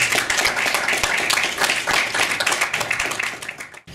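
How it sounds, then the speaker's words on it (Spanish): Audience applause at a Peruvian national civil law conference as a speaker is welcomed to the podium, steady dense clapping filling the room for nearly four seconds before cutting off abruptly. "Démosle un fuerte aplauso"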